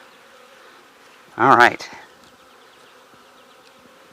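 Honey bees during nuc installation, a brief loud buzz as one bee passes close by against a faint hum of other bees, with a person speaking briefly.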